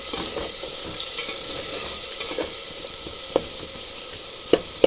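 A spicy masala with tomato frying in a pan, sizzling steadily and close, with a few sharp clicks of a spoon stirring it toward the end, no talking.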